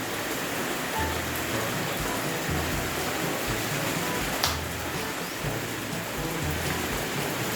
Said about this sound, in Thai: วันนี้ฝนตกก็ทดสอบกันท่ามกลางสายฝนเลยนะครับ